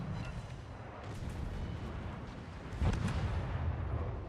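Warship guns firing in World of Warships, a tier 3 Charleston with guns along its sides, producing a dense, continuous barrage of low booms with a heavier blast near the end, loud and without talk.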